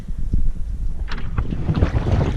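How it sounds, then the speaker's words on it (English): Strong wind buffets the microphone in heavy low rumbling gusts on an oyster farm by the water, with faint splashing or knocking sounds mixed in. "It's extremely windy"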